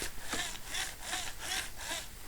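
Tamiya Lunchbox RC car with a freshly rebuilt rear axle and working differential rolled on the floor, giving a steady rhythmic whirring rasp that pulses about five times, close and fairly quiet, with no voices.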